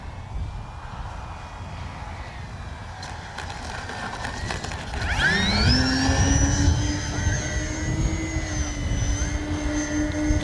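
An E-flite Beechcraft D-18 model airplane flies past under a steady background hiss, its engine whine rising and sweeping in pitch about halfway through, then holding loud and close.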